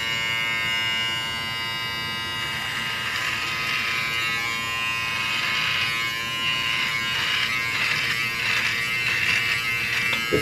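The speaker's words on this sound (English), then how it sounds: "let's start trimming the beard." A Philips Norelco Series 3000 trimmer fitted with a 3 mm comb buzzes steadily as it trims a beard, its loud, close motor whine rising and wavering as it moves through the hair, with no talking.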